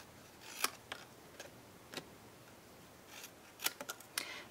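A paper punch working through cardstock for a Christmas slider card gives sharp, quiet clicks and snaps, scattered singly and in a quick cluster of three or four, close by over a faint hiss.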